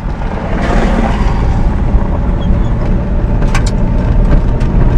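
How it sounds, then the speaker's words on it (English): A car approaches along a gravel road past a sign warning of bears, a steady loud rumble of tires and engine mixed with heavy wind buffeting the microphone, no talking. "And there's a car coming"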